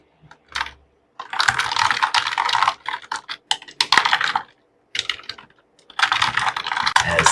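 Typing on a computer keyboard, loud and close, as a note is written, coming in irregular bursts of rapid key clicks separated by short pauses.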